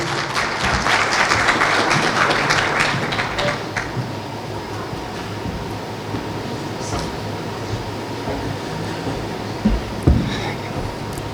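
Applause in a hall at an Ankara solidarity evening welcomes Kashmir Bar member Nasır Kadri to the stage, louder for the first few seconds and then thinning into a low murmur with a brief bump near the end.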